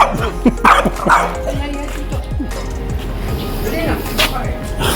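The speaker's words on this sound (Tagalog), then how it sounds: "Galit sa akin itong aso ito." A dog barks repeatedly nearby in short bursts, mixed with whines, while a person talks over it.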